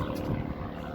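An aircraft engine drones overhead, a loud, steady low-pitched roar with a slight pulsing throb, heard alone.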